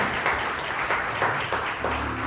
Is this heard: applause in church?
yes